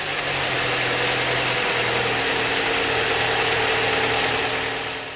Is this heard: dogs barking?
no